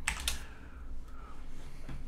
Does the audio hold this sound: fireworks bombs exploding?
no